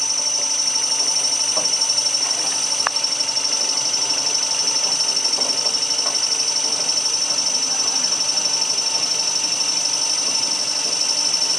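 A 3-phase motor runs on a VVVF drive trainer at a steady 25 Hz setting, giving a constant high electrical whine over a dense even hum, with a few faint clicks and no talking.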